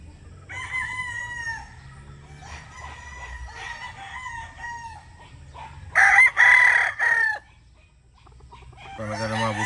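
Boston Roundhead gamefowl roosters crowing close by, several harmonic crows overlapping through the stretch, with one loud burst near the end and a second rooster starting just after; no talk.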